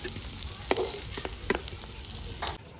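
Hilsa fish roe fries in hot oil, a steady crackling sizzle with a few sharp pops and spatters, continuing until it cuts off abruptly near the end.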